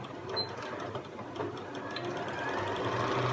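A sewing machine stitching fabric for pirate shorts close to the edge, a steady close mechanical whir running continuously without pause.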